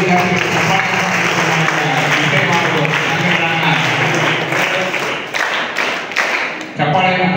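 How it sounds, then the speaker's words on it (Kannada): Audience applause at a school welcome day inauguration, with steady clapping filling the hall throughout and thinning slightly toward the end, mixed with background voices. "ಚಪ್ಪಾಳೆಯನ್ನು ತಟ್ಟುವ ಮೂಲಕ"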